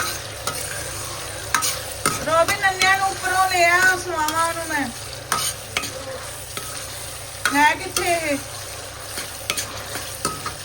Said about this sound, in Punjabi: ਤੜਕਾ ਲਗਾ ਰਹੀ ਆ ਮੈਂ